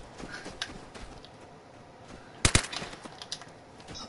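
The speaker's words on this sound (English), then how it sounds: "I hear gunshots and immediately open my eyes." A gunshot from the online survival shooter Vigor cracks out as one sharp burst of two or three quick reports midway through, set against a quiet game backdrop.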